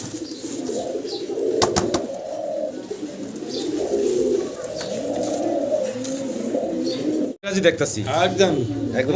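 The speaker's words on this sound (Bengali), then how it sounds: "চমৎকার এক জোড়া সিরাজি কবুতর" Sirazi pigeons coo repeatedly in soft, low, rolling calls close by, with a sharp clatter near the end and a voice speaking in the background.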